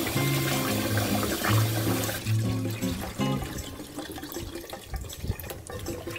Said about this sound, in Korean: 찬물에 헹궈주세요.